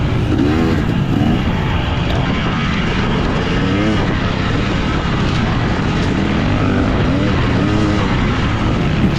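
A racing motorcycle at a Southern Roots Round 3 dirt race revs under throttle, its engine rising and falling in a loud, continuous buzz.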